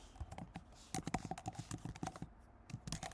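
Quiet, close keystrokes on a MacBook keyboard tap out in irregular quick bursts, light clicks clustering and pausing as a short phrase is typed.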